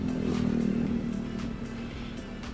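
A loaded scooter's small engine hums steadily throughout on a road in Bali, a close, continuous drone with road noise and faint traffic in the background.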